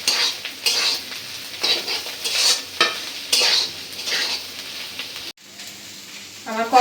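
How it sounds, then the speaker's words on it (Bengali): Bitter gourd and rohu fish roe fry in a pan, a steady sizzle with repeated scraping stirs of a spatula against the metal, close and continuous with no talk. "এখন আমি ডিম আর করলা একত্রে ভেজে নিলেই রেডি ডিম দিয়ে করলা ভাজি"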